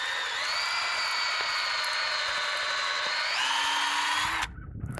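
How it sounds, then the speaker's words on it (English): A power drill bores into a maple tree trunk for tapping, its steady whine holding for several seconds, dropping in pitch near the end before cutting off. "we're just going to go ahead and just drill straight in"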